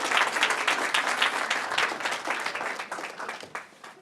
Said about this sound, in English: You give him another round of applause.